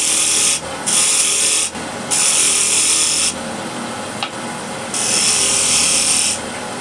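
A shear scraper drags across a spinning wooden wheel blank on a lathe, producing loud, close rasping scrapes in three long passes separated by brief pauses, over a steady lathe hum.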